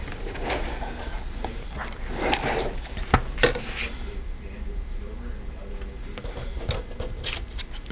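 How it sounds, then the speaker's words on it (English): Scissors trimming paper while decorating a planner, a few crisp close snips and rustling paper handling amid quiet background, with a person talking at times. "Okay, and let's trim this off."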